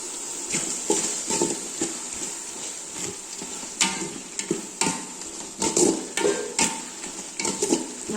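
Tomatoes sautéing in a pan with ground biryani masala powder, a soft sizzle broken by repeated scraping and stirring knocks, close and moderately loud, with no talk.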